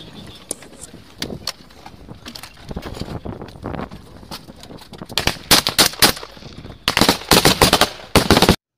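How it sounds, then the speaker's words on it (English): Machine gun fire during a trench assault by soldiers dismounting Humvees; rapid bursts of loud, close gunfire, sparse at first then growing into dense, sustained volleys toward the end. "they started returning fire back at him at a very high rate"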